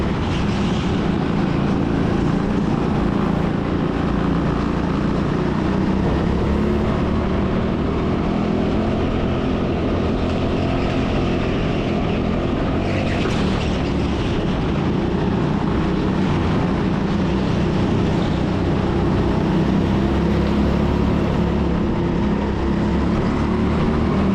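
A go-kart engine with a slight tapping fault drones steadily through an indoor race at TeamSport Sheffield, a continuous loud buzzing that rises and falls with the throttle.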